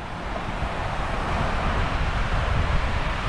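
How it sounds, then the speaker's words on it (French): Wind blowing across a lakeside beach near Bariloche at sunrise, a steady rough rumble of gusts buffeting the microphone, fairly loud and continuous with no voices. "il y a du vent par contre"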